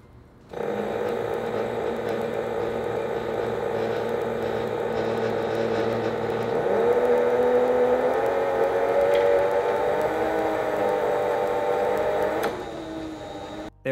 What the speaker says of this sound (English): we are going to put the strap through a single pass on this skiving machine